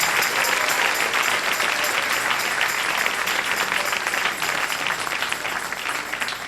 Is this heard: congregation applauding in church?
yes